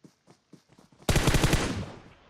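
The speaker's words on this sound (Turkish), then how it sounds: "Aha bir ayak sesi daha." Quick, evenly spaced footsteps in PUBG Mobile on the Sanhok map patter softly for about a second, then a loud burst of rapid automatic gunfire drowns them out.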